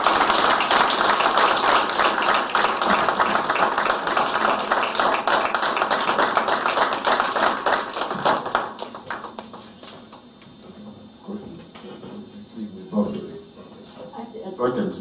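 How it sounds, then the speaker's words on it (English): An audience at a lecture gives a guest speaker dense, sustained applause that runs loud for about eight seconds, then thins into scattered claps with a voice speaking over the tail. "I think you'll all join me with yet another round of applause for our guest speaker"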